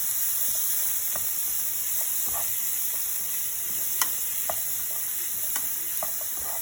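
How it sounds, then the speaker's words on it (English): Mushrooms sauté in a hot pan with a steady, close hiss of sizzling, broken by scattered light clicks and scrapes of stirring, with no talking. "I'm going to put 7 and 8 mushrooms in it and we'll mix together."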